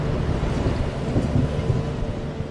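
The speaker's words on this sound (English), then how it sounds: "An approaching downpour threatens to grow into a lightning storm." Heavy rain and a rumbling thunderstorm envelop a high vantage point 200 meters up among Singapore's towers, a dense, steady low roar with swelling rumbles and no clear breaks.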